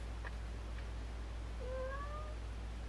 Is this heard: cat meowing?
yes